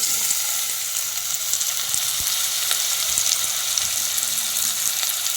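Marinated chicken frying in hot oil for a biryani gives a steady, even sizzle that runs throughout, close by, with a few faint clicks and small pops and no talking.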